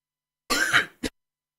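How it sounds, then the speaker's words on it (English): A man gives one rough, rasping throat clearing followed by a single short cough, close and loud against silence. "I laugh a little bit too much at that now, and that's why that cough come on me."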